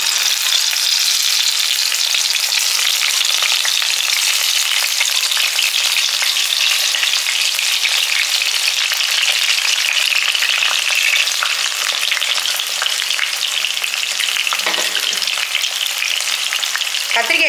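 Halved tomatoes fry in hot sesame oil for a chutney, giving a loud, continuous close-up sizzle that holds steady throughout, with a brief stir near the end.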